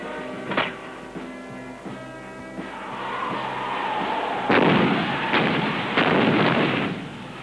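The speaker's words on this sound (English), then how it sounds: "They're firing at the shore." Ship's guns fire at the shore in a string of heavy booms and thuds, several sharp reports spaced a second or so apart, with a rumbling, rolling rise between the louder blasts.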